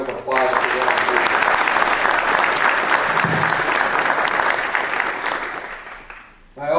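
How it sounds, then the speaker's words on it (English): Sustained crowd applause at a Veterans Day ceremony in Belleville, Illinois, steady and full for about six seconds before tapering off, with a fresh burst of clapping at the very end. "How about another big round of applause for them?"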